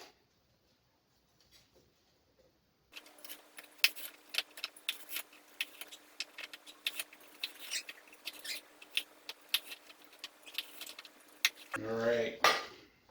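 Celery stalks are split on a cutting board for a stuffing, giving a quick series of sharp close snaps and clicks after a quiet start, then a louder crunching rustle at the end.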